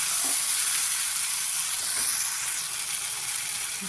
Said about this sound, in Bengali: বেটে রাখা কাজু আর তিল এটার পেস্টগুলো ভালো করে দিয়ে ঢেলে দিয়ে নাড়তে থাকি।